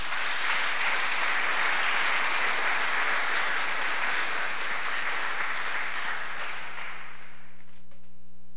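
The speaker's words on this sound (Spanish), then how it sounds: "Démosle un fuerte aplauso al Rey." A church congregation bursts into sustained, loud applause that fills the room, dense clapping holding steady for several seconds before tapering off near the end.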